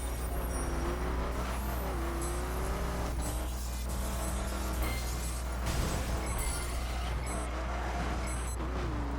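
A Silverado truck's engine races in a video game, a loud, steady motor drone with rising and falling pitch that runs unbroken throughout.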